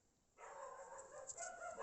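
Dogs barking indoors at a passing dog seen through an open door, a faint burst of yips and barks that starts abruptly and continues, heard at a distance.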